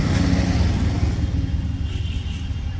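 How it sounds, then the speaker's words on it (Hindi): Vehicles on a main road pass beside a bougainvillea plant nursery, a continuous low rumble of engines and tyres with a motorcycle-like drone, steady and fairly loud throughout, with no talk. "इसीलिए थोड़ा आवाज़ आ रहा है गाड़ियों का"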